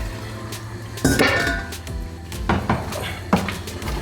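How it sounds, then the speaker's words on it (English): Stewed oxtail simmers in a pot as a utensil stirs it, giving a few loud clanks and scrapes against the pot over a low background bubbling. "you've just got to let this cook and simmer away, and you've got to keep touching it"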